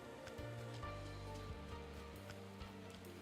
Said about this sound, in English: It is raining in A24.